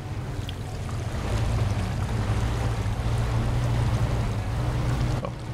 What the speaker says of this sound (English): Let's start this engine.